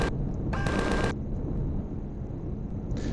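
An auto cannon fires at a drone in Empyrion Galactic Survival, a short loud burst of rapid shots lasting about half a second, then a faint rumble and a brief final crack.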